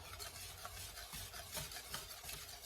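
A spoon stirs cheese sauce melting in a pan on a hot stovetop burner, giving a steady, close scraping and sloshing texture with soft clinks and faint sizzle throughout.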